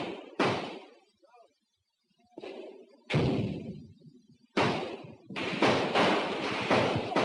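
Cover fire erupts during street fighting between US Marines and enemy forces in Hue, 1968: separate loud, sharp cracks of gunfire, then a sustained, heavy volley of shots close by.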